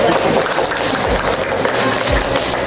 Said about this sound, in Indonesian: Baru tepuk tangan dulu